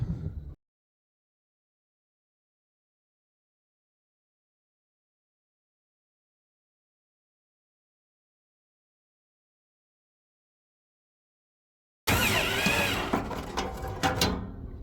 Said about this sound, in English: so now I'm going to self-tap the next one